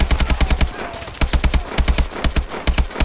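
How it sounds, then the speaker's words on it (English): Gunfire from weapons in Call of Duty Advanced Warfare, loud close bursts of rapid shots in clustered volleys with brief gaps between them. "The sounds of the guns are incredible."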